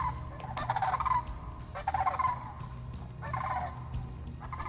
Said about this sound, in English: The sandhill cranes arrive from their winter quarters in Mexico, and they proudly announces their arrival.